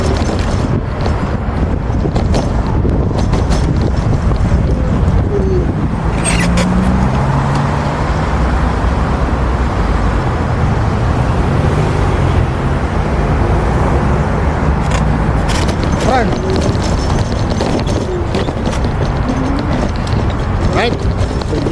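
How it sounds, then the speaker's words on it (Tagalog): Steady roar of highway traffic with cars and larger vehicles passing continuously, a dense broadband wash that never lets up, with faint voices mixed in. "Highway na to."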